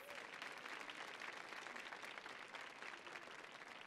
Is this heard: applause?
yes